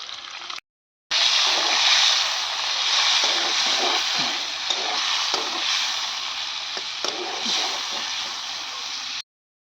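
Ginger and peas frying in oil in a wok, a steady close sizzle with stirring scrapes that holds for most of the stretch after a brief gap near the start.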